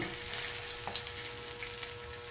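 Garlic frying in a hot pan for a Filipino vegetable dish, a dense continuous sizzle close up with faint stirring scrapes and no talk.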